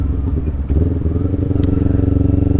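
A motorcycle fitted with an aftermarket exhaust runs loud and close, its throaty, pulsing note thickening as the throttle opens partway through and holding a steady, rapid beat to the end.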